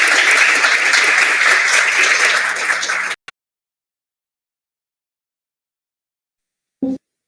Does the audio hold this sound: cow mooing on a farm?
no